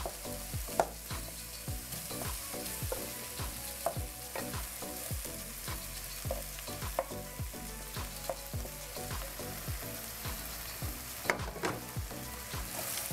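Pieces of beef brown in a hot pan, a steady low sizzle punctuated by frequent rhythmic clicks and scrapes of stirring throughout, with no voices.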